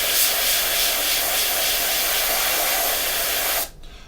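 An airbrush sprays paint onto the exhaust area of a 1/48 Airfix Hurricane model kit, giving a steady close hiss for about three and a half seconds before cutting off abruptly.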